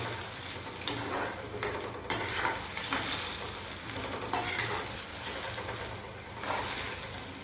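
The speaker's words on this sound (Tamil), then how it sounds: "இந்த கிறிஸ்பி எஃபெக்ட் வரணும்னா கடலைக்கு கொஞ்சம் இந்த மாதிரி டீப் ஃப்ரை பண்ணால் தான் வரும்" Peanuts deep frying in hot oil for a puliogare tamarind rice mix, a steady crackling sizzle throughout with occasional louder stirring scrapes, close and without any talking.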